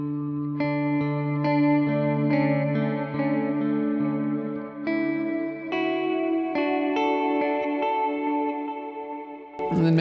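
Clean electric guitar plays slow picked notes and chords through a Tonex amp modeler, washed in delay and reverb so each note rings and trails into the next, with a brief scrape at the very end.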